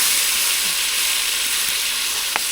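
Water poured into a pan of silver carp fish curry sizzles hard, giving a loud, continuous hiss and crackle of frying that stays even throughout, with one small knock near the end.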